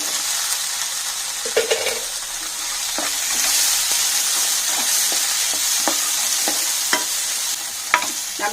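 Drained rajma kidney beans sizzle in masala in a pan, a steady frying hiss broken by scattered scraping stirs and spoon clicks, with no voices.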